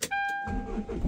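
Hyundai Grand Starex van with a starting fault cranks briefly and catches, a short starter whir with a chime tone before the engine settles into a low idle, close and fairly quiet.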